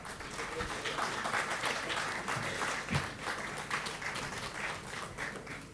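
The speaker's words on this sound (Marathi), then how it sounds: "त्याचसोबत जोरदार टाळ्या डॉक्टर रोहित साने यांच्यासाठी MD माधव बाग" An audience at the Maharashtra Business Conclave 2024 applauds Dr Rohit Sane, MD of Madhavbaug, with steady, even clapping from a crowd that sounds somewhat distant and soft.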